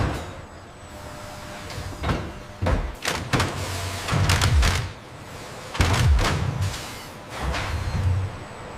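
Doors are removed from a Tesla Semi electric truck on a factory assembly line at Giga Nevada, giving a series of loud, nearby clunks, thuds and sliding knocks in irregular bursts against a steady industrial hum, with no talking.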